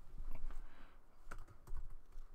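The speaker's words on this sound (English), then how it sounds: "Let me type that." Someone types on a computer keyboard, a quiet run of quick irregular key clicks in short bursts with brief pauses and no speech.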